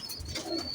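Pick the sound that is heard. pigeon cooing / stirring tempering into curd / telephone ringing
pigeon cooing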